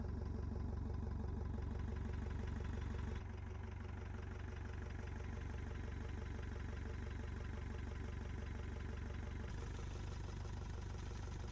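A van engine idles steadily and evenly up close, a low continuous rumble with no talking, after its punctured radiator was refilled with antifreeze and water.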